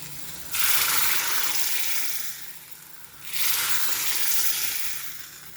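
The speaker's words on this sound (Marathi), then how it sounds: "छान असा चरचरीत आपल्याला कसुरी मेथीचा तडका देऊन घ्यायचा आहे भाजीला" Kasuri methi tadka poured onto pav bhaji cooked in a pressure cooker, giving two loud, close bursts of hissing sizzle that each fade slowly.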